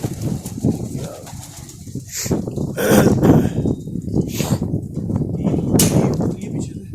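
Sialkoti pigeons coo and murmur in a steady stream inside a loft, with a few brief bursts of wing flapping close by.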